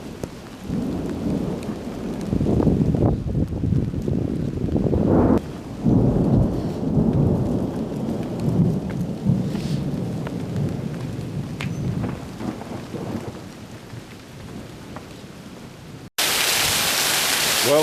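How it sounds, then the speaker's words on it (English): Thunderstorm with heavy rain at an off-grid village, a dense steady downpour hissing under deep rolling thunder rumbles, with a brief sharp jump to louder hiss at the very end. "Well, I guess the rains are here."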